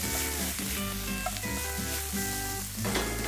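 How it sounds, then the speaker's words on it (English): Herbs with fresh mint and rosemary sautéing in a home kitchen pan, giving a steady close sizzle and frying hiss with occasional stirring, no voices. "We're just going to let it saute as it is."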